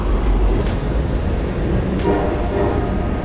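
A train rumbles through the old railway cut in Akron, a steady loud roar of rolling wheels and rail noise filling the whole stretch, with a faint high whine above and no voices.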